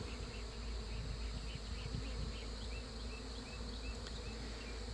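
A steady, close swarm of honeybees buzzing continuously inside a mobile home in Lakeland, Florida, with a dense droning hum and no voices.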